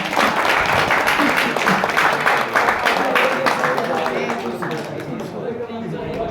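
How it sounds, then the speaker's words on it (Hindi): A large crowd applauds loudly and steadily, a dense wash of clapping with cheers mixed in, slowly tapering off toward the end. "तो विनर के लिए तालियां हो जाए जोरदार।"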